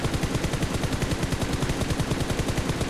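Rapid automatic gunfire in the PUBG Mobile battle royale game, a fast even stream of shots hammering for about three seconds, loud and close with no talk.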